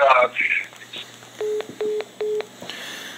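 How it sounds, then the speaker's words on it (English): A prison phone call is cut off: a burst of electronic telephone tones, then three evenly spaced matching beeps of disconnection signal, loud and close, with a faint voice underneath. "the phone cut us off"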